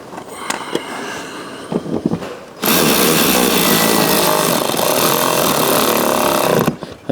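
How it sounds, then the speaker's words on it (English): Power tool driving T30 Torx bolts on a Porsche Boxster 987 in a workshop: a few short bursts first, then a loud, steady whirring run of about four seconds that stops abruptly, with no talk. "And then you've got some T30s here, which will fasten it on. Again, I'm going to cheat, I'm going to use ratchets."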